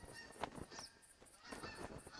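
Geese in theHunter hunting game honk repeatedly in quick, uneven bursts, faint and somewhat distant, with no talking over them.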